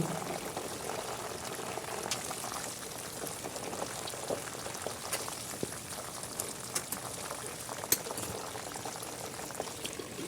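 Herb leaves simmer in oil for a skin-remedy preparation, giving a steady, soft bubbling and sizzling crackle with scattered tiny pops throughout.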